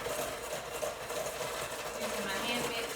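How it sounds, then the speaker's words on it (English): An electric hand mixer whirs continuously while creaming banana bread batter in a kitchen bowl, a steady motor drone held close throughout. "Using my hand mixer."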